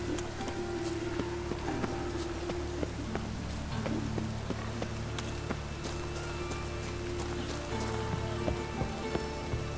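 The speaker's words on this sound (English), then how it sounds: "Looks like rain." Steady rain in The Witcher 3 patters on a surface, with scattered louder drops and faint low tones and clatter mixed underneath.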